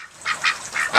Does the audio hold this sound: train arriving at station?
no